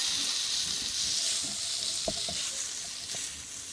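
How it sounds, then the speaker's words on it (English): Mashed and chopped potatoes being mixed into Bengali shingara filling in a pan, with a steady sizzling hiss throughout and a few soft scraping stirs, the sound holding fairly even. "Now add in your potatoes, both mashed and chopped, and mix that in."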